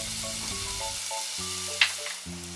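White wine poured over frying bacon in a pan for a cream and mushroom carbonara, a steady close sizzle with a brief splash and hiss midway, while a background melody plays.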